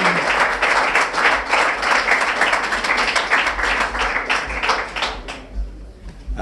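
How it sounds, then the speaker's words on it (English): Audience clapping and applauding in a hall for cricketer Younis Ahmed as he is welcomed to the stage, a steady dense patter of many hands sustained for several seconds before thinning out near the end. "With a round of applause, I will request Mr. Ahmed to come on stand"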